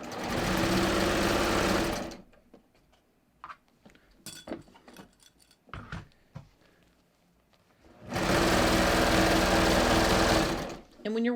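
A sewing machine stitches along the hem edge of a lined legging in two loud sustained bursts of rapid mechanical whirring, separated by a quieter stretch of fabric handling, small clicks and taps.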